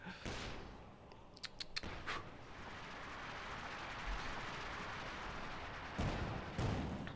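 Faint, distant gunfire crackles in the video game Company of Heroes 2: scattered sharp shots and a few quick bursts over a low battlefield hum.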